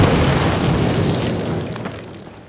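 A loud explosion in the 2003 Call of Duty video game: a heavy broadband blast that rumbles and slowly fades over a couple of seconds, with no voices over it.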